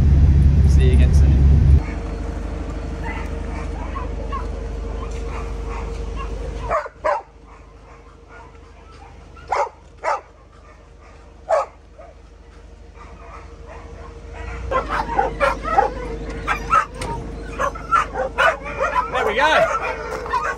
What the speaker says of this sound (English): Bus full of dogs.